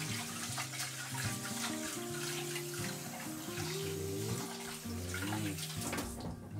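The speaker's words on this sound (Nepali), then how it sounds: "फर्स्टमा चाहिँ चामल धुनुपर्छ चामल चाहिँ" Rice is washed under running water in a hostel kitchen in Japan for chicken biryani, a steady close splashing and trickling with tonal background music underneath.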